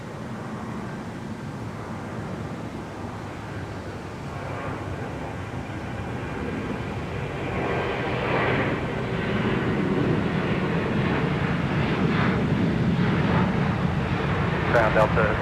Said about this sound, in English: Another 12 right departure.